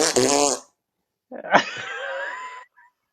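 A brief vocal sound opens, then after a short silence a single rasping, buzzy fart lasts about a second before fading out.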